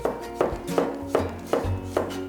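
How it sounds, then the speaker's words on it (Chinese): A knife slices through garlic cloves in an even rhythm of about six crisp cuts, each landing with a short knock. The cuts are close and distinct, with no talking. "然后蒜头把尾巴去掉，然后切片"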